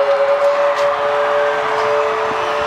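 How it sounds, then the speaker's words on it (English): A steady, sustained air raid siren tone holds one pitch throughout, droning loudly over a noisy rugby league stadium crowd in Penrith, signalling half-time, with no talking. "The Penrith air raid siren sounds to signal the end of the first 40"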